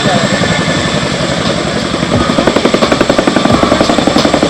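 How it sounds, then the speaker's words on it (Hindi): A twin-rotor Indian Air Force helicopter, inducted in 2019, flies overhead during an air show rehearsal at Sukhna Lake. Its loud engine roar builds into a rapid, rhythmic blade thudding, and a voice speaks over it. "दो रोटरों वाला यह विमान हाल ही में भारतीय वायुसेना में वर्ष"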